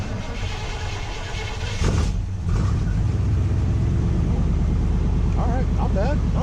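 A pickup truck engine with dual exhaust turns over and catches, then settles into a steady, rumbling idle, loud and close.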